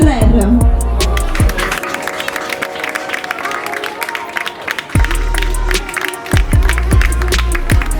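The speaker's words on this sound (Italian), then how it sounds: "Un altro bel applauso a Eleonora Carrer" Lively audience applause and cheering for a regional finalist at the Miss Reginetta d'Italia beauty pageant in Eraclea, Veneto, sustained loud clapping from a crowd with music and a voice over a PA underneath.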